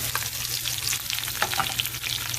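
Garlic frying in hot oil in a pan makes a continuous crackling sizzle with scattered sharper pops and light stirring scrapes, fairly close and steady.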